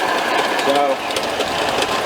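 A boat's port engine runs steadily at close range, a constant mechanical drone with a faint whine, while someone talks over it.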